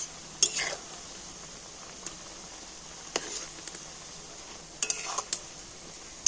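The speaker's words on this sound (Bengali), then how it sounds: "তো দেখুন সমস্ত পিঠেগুলোকে একবার এইভাবে উল্টে দিয়েছি।" Pitha cakes are turned over in frying oil: a soft, low frying hiss is broken by a few sharp utensil clinks and scrapes spread across the moment.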